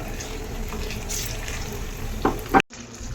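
Browned onion and ginger garlic paste sizzle steadily in a hot pan, a near continuous hiss with a couple of scraping stirs before it cuts off abruptly near the end.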